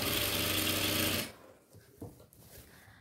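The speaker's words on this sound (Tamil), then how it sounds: "இப்போ இந்த மாதிரி ரெண்டு மடி மடிச்சுட்டு ஸ்டிச் பண்ணிக்கலாம்" A sewing machine stitches folded chudithar lining cloth in one fast, steady, close burst that stops after about a second, leaving quiet handling sounds.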